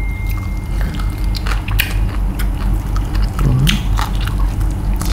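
Close, loud biting and chewing of fried chicken wings, with crunchy bites and wet squishy mastication repeating steadily throughout, no talking over it.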